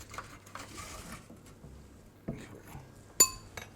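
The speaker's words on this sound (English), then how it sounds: "So we're just going to loosen it from the tray that it's baked on" A metal spoon scrapes and clinks against a baking tray while loosening salt-baked celeriac, quiet close scraping with a couple of sharper clinks near the end.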